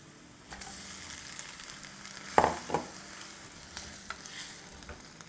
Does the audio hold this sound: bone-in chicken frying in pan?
yes